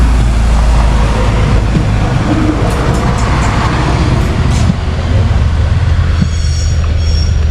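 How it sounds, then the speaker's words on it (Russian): A loud, continuous rumble of a local regional train rolling past nearby near Rostock, Germany, with heavy low droning, rattling wheels and occasional high squeals toward the end. "Вон поезд наш региональный"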